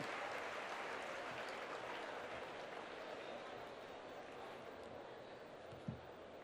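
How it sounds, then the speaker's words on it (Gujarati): Sustained audience applause welcoming the managing director of a power utility onto the stage at a spiritual discourse event, a dense steady wash of clapping from a large crowd throughout. "જોરદાર તાળીઓથી આપણે એમને વધાવીએ છીએ."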